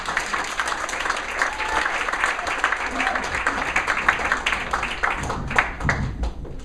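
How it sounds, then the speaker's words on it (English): Comedy club audience in Brookfield, Wisconsin applauding a comedian coming to the stage, loud sustained clapping and cheering close by, with voices mixed in toward the end. "Let's have a warm round of applause for Tim Hunter"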